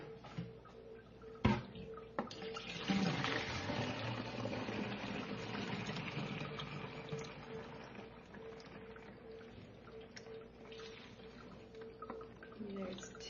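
Water running while a laundry soap container is rinsed out, a steady faint splashing flow with a sharp knock early on and quieter trickling toward the end.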